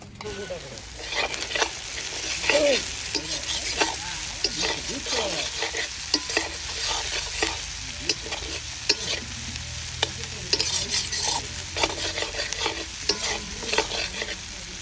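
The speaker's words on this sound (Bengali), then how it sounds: "বেগুন ভাজা আজকে হবে, রোয়াট বেগুন ভাজা।" Eggplant slices sizzle and fry in a pan at a picnic cooking spot, with steady crackling and repeated scraping strokes as they are stirred, close and continuous.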